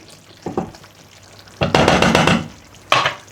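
Dried fenugreek being stirred into a chicken and chickpea curry in one pot, with a few short bursts of utensil scraping and sizzling, the loudest near the middle and another at the end, close and without talk.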